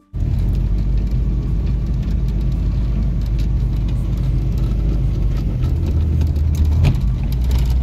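A Volkswagen Golf 1 project car's engine runs steadily while the car is stuck, a loud, close, constant low rumble and whir that holds throughout with a slight rise near the end.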